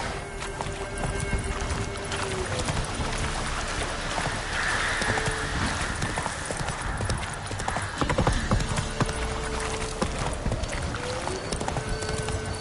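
Hooves of Roach, the horse in The Witcher 3, galloping in a steady clip-clop rhythm that carries loud and close throughout, with an occasional whinny and game ambience underneath.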